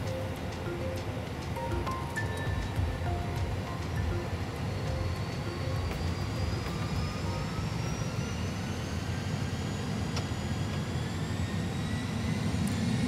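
Airbus A320 jet engines at takeoff thrust inside a full flight simulator, a steady loud broadband roar with rising whine tones throughout, continuous without speech.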